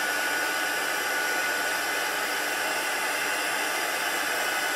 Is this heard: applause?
no